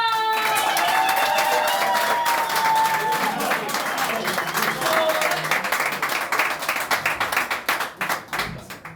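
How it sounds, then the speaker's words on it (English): Dense, steady applause from a comedy club audience fills the room for comedian Charlie Bond, loud and continuous at first, then thinning into scattered individual claps near the end. "please give a massive woman a cheer for Charlie Bond!"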